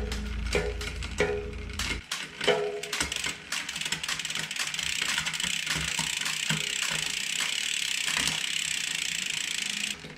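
Gear shifting on a SRAM Eagle 12-speed mountain bike derailleur, the shifter lever clicking and ratcheting through a run of quick mechanical clicks up close, followed by a steady whirring drivetrain hum, no talk.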